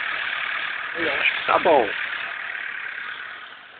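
A freshly tuned Chevrolet car engine idles smoothly with a steady, even hum, while someone speaks briefly over it in Portuguese.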